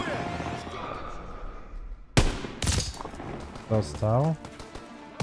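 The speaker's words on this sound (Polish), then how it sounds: "fajnie się strzela z tej snajperki, nie powiem" Sniper rifle fire in Call of Duty: WW2, two sharp loud bangs in quick succession mid-clip amid battle noise, followed by a shouted voice and other game sounds.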